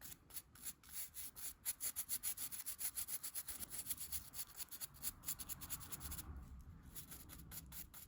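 A brush dry brushes paint onto a rough, rocky cave-style miniature base, giving a faint, close scratchy rubbing in quick back-and-forth strokes that build into a steady rhythm.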